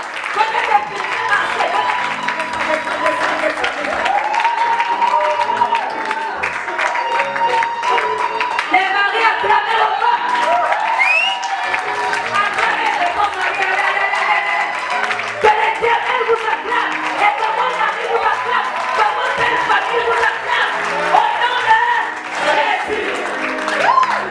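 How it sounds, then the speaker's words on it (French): A large crowd applauds and cheers loudly and steadily, with clapping, whoops and shouting blending into a dense, continuous roar. "Ce sont des acclamations."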